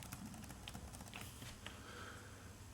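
Keys on a computer keyboard are pressed in a faint, irregular run of light clicks and taps, heard alone with no talking.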